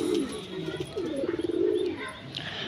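Pet pigeons coo close by, giving a few soft, throaty rolling calls with a rapid pulsing flutter in the middle, fairly quiet against a light background.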